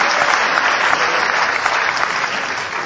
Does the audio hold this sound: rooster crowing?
no